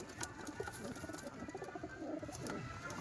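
Soft, low pigeon cooing repeats close by amid faint rustling and background noise, fairly quiet overall.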